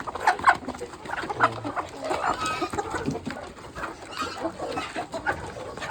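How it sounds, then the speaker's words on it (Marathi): Several free-range village chickens cluck and cackle nearby in an irregular, busy chorus with overlapping calls. "अशा सर्व आपल्या अशा कोंबड्या आहेत"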